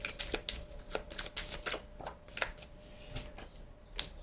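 Tarot-style cards shuffled for a card reading, a quiet, close series of riffling flicks and soft slaps repeating at an uneven rhythm, with no voice.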